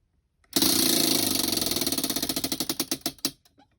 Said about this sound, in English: Let's spin the wheel for tomorrow.